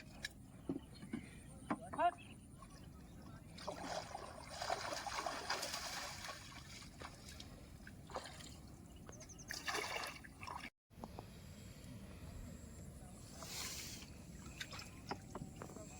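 A small boat crosses the Damodar river with quiet, intermittent splashes and trickling water against a faint hiss, while people talk softly nearby.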